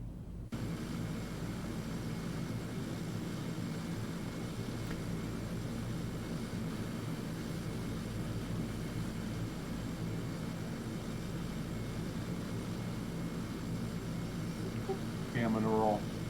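Fokker F50 turboprop airliner in the flight simulator X-Plane 11, a steady droning engine hum held throughout at moderate level, with a voice speaking briefly near the end.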